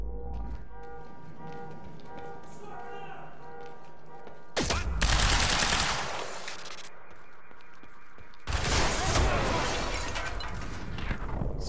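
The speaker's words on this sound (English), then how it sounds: "Someone's shooting at me." Heavy gunfire during a shootout in the video game Quantum Break, two loud sustained bursts of rapid shots breaking in over a quieter tonal game score, close and harsh.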